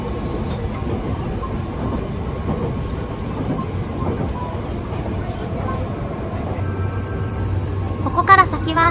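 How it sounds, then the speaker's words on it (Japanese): Nankai Gran Tenku sightseeing train climbing a steep mountain line toward Koyasan, heard from inside as a steady rumbling roll with faint wheel clatter and a brief squeal near the end. "ここから先は高野山に向けてどんどんと山を登っていきます。"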